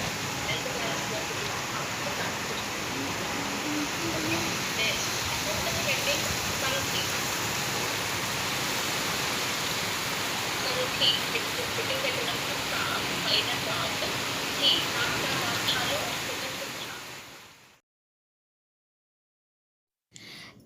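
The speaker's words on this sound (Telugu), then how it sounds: "చల్లగా వర్షం చూసారా ఎంత బాగా పడిందో" Steady rain pours down under swaying coconut trees, a dense, even hiss that stays loud and constant before cutting off abruptly near the end.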